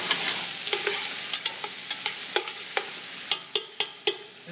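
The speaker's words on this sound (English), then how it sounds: "you want to sweat the onions for a couple minutes first before you add in any of the other vegetables" Onions sweat in a pot for an oxtail ragu with a soft, steady sizzle, broken by a string of sharp, regular clicks of a utensil stirring against the pot, with no talking.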